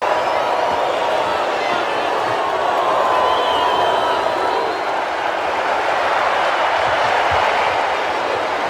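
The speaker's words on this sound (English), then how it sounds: "when Drago does it, the crowd kind of pops for Drago" A fight crowd in Rocky IV roars in a sustained, dense wash of cheering for Drago, loud and continuous throughout with no clear individual voices standing out.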